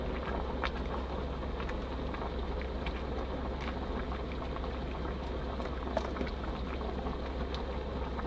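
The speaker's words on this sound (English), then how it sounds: "Guys, we're cooking noodles" Noodles boil in water on a Jetboil stove during winter camping in a van, a steady close bubbling and hissing with a low burner rumble underneath, continuous throughout with scattered small pops and no talking.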